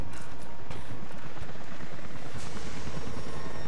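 Helicopters arrive in the video game Rise of the Tomb Raider with a loud, continuous rotor thumping and engine roar that fills the whole stretch, steady and close.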